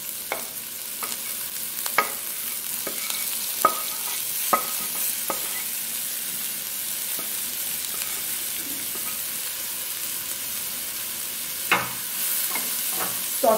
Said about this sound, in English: Saute the onions,